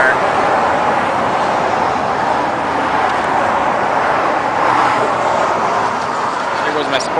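A support vehicle rolls past on the road during a coast-to-coast bike ride, a steady broadband roar of tyres and engine mixed with wind rush, loud and continuous throughout.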